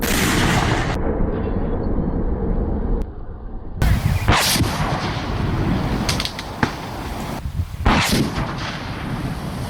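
Gun volleys fire on command, a series of loud, sharp blasts in quick succession that roll into a dense, continuous roar of booming reports with short breaks between salvos.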